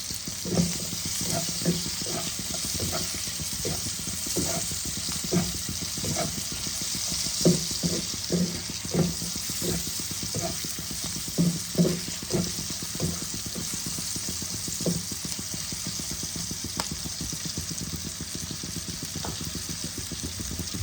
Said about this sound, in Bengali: এবার আমি টমেটো কুচিগুলো দিয়ে দিচ্ছি। পেঁয়াজের সাথে একসাথে মজিয়ে নেব।